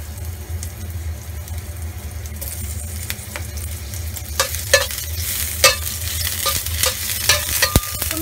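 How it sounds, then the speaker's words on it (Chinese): Ginger slices stir-fried in a hot wok for a sea cucumber and bell pepper dish: a steady loud sizzle with spatula scrapes and clacks that grow busier and sharper toward the end. "咁而家咧就開始炒啦。 啲薑片起喎。"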